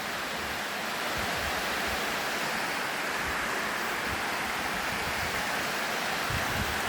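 Steady, dense rushing of a waterfall heard from close by at a remote spot reached by a rough trail, an unbroken roar with no voices.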